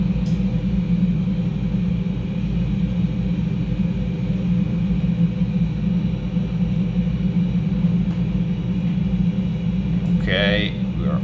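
A KLM Fokker 100 backtracks along the runway as engines and cabin give a steady, loud low rumble and hum heard from inside the aircraft, with a short chime near the end.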